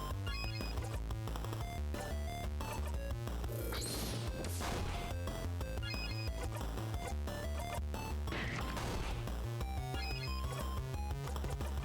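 Heavy smashing attack impacts on enemies during a battle in the video game In Stars and Time, with repeated crashing hits over dense, continuous game music and no talk.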